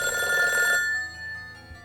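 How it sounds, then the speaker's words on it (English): A house telephone bell rings in The Devil on G-String visual novel, a clear electronic trill for under a second that then cuts off, leaving quiet background. "The house phone rang."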